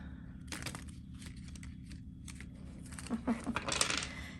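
A large tarot card deck is shuffled by hand, giving quiet papery riffles and crisp card snaps in scattered bursts, louder toward the end, over a low steady hum.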